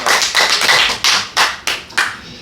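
A small group claps during a live talk-concert event, producing about six uneven, loud bursts of clapping close by, with no speech.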